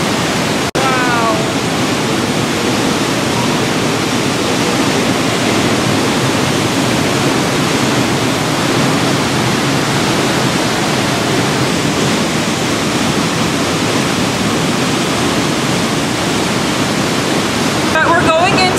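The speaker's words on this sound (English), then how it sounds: "the waterfall is like inside a canyon, so it's very cool" A waterfall inside a canyon roars with a steady, broad rushing wash of falling water, loud and constant throughout with no breaks.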